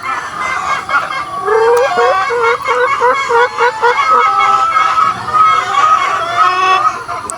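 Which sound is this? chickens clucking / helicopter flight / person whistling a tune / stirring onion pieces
chickens clucking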